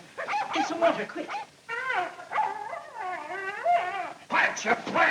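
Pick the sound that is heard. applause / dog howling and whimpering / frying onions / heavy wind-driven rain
dog howling and whimpering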